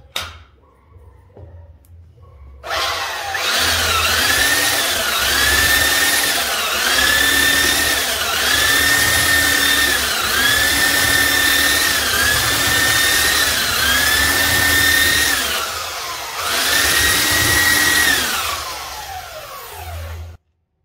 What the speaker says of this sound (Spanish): acá ya lijé esta tabla y lijó bastante bien